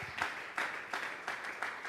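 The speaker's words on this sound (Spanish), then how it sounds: "Vamos a regalarle ofrenda de palmas al Dios de la gloria" A church congregation claps in unison during a Sunday service, a steady rhythmic beat of loud, roomy hand claps repeating about three times per second.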